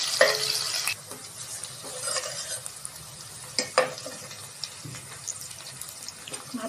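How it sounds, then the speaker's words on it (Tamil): Small onions fry until golden for chicken potato kurma, a steady, close, hissing sizzle broken by occasional spatula scrapes and clacks against the pan. "நல்லா கோல்டன் ஃப்ரை ஆகட்டும் ஃப்ரெண்ட்ஸ் வெங்காயம்."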